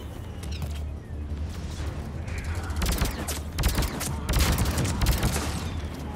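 Mass Effect 3 combat gunfire crackles in repeated bursts of close, loud shots that grow denser and heavier toward the end, with mechanical clanks between volleys.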